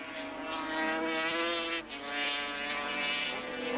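A 1983 500cc racing motorcycle engine in a superbike race, a fairly faint tonal whine that rises and falls as the bike passes, with a brief dip midway.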